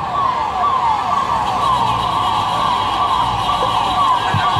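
Fire brigade truck siren at a Mumbai Port Trust civil defence demonstration for a shopping mall fire, a loud continuous wailing tone sweeping up and down repeatedly, close by and steady throughout.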